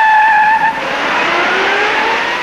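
A 1962–63 Chevy II with a 120-horsepower six racing a full-sized 170-horsepower Ford Galaxie V8, loud roaring engines with squealing tires and a rising pitch as the cars accelerate.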